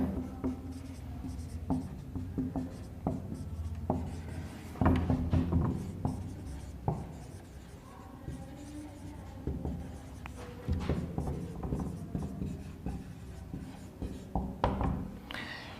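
Pen or chalk writing out an English grammar example, a close series of scratchy strokes and taps in an irregular rhythm, fairly quiet.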